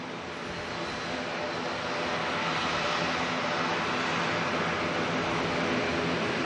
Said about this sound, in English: Jetstar's 321 Neo heading back to Brisbane.